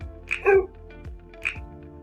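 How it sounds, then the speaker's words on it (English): A dog barking sound effect placed in a stop-motion project: two or three short, sharp barks with yips in quick succession, near and fairly loud, with no talking over them. "This was the dog barking"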